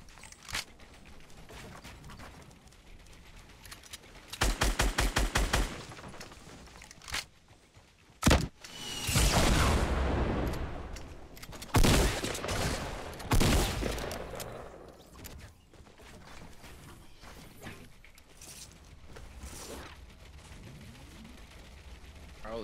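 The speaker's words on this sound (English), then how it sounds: "He's shooting at me." Gunfire in Fortnite Battle Royale: a rapid close burst, then scattered loud single shots and short volleys amid mechanical reload clicks and game sounds, with quiet stretches between.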